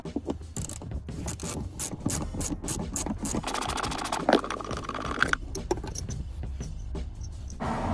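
Carpet fixings in an Alfa Romeo Giulietta are loosened with a number 6 Allen bit, giving close ratcheting, scraping and rubbing mechanical sounds with a few clicks and brief whirring.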